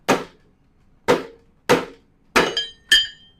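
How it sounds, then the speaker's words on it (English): A rubber mallet strikes a drill chuck to knock it loose from the drill, five sharp, close taps spaced about half a second to a second apart, the last two ringing with a brief metallic tone. "I'm going to tap this. I'm going to use a rubber mallet instead of hammer."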